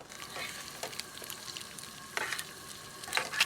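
Trout sizzling and frying in a non-stick Fire Maple camping pan, a steady crackle with sharper pops and stirring scrapes, close and alone with no talk.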